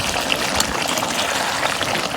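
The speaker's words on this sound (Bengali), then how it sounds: "অল্প একটু জলে পানি দিয়ে এই জলে পানি দিয়ে দিলাম" Water is poured into a chicken curry cooking on a clay stove, making a steady, close rushing gush that lasts the whole moment, with no talk.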